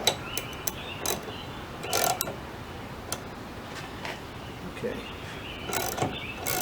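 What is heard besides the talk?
jacking bolt on Beetle hinge pin removal tool being adjusted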